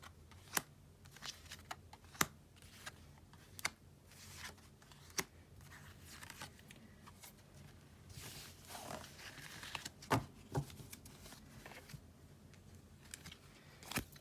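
Tarot cards being shuffled and handled for a card reading, soft papery riffles and taps recurring in short bursts, quiet and close with no talking.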